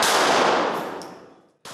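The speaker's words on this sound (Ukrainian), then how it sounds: "Стріляли з бойової зброї" Combat weapons fire at a Ukrainian team competition: one sharp, loud report rings out and fades over about a second and a half, then another shot cuts in abruptly at the end.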